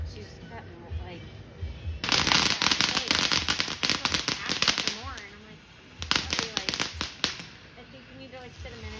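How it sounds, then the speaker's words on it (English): Fireworks bursting at a Fourth of July celebration: dense, loud volleys of crackling pops and bangs in two long bursts, with a quieter stretch between them and voices in the crowd nearby. "we are here to see some major fireworks"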